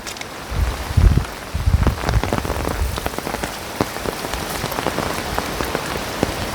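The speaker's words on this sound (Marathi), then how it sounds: "तसा की वाऱ्याचा आवाज तुम्हाला येतच असेल." Heavy rain pelts down on a Konkan coast night during crab hunting, a dense close patter on surfaces with gusty wind rumbling in bursts early on.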